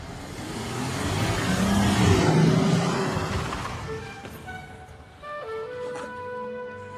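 An automatic car pulls away after being shifted into drive, a broad engine and road rumble swelling over a couple of seconds and then easing off, with brief tonal clicks and chimes near the end.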